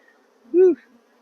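A honeybee, African or Italian Apis mellifera, buzzes briefly past: one short, close, tonal hum that swells and fades within a fraction of a second.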